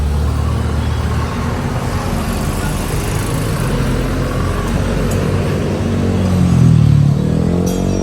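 A Yamaha Aerox V2 scooter fitted with a full CVT set and a Sun Racing pipe runs steadily nearby, its engine drone constant with a slight rev rise near the end.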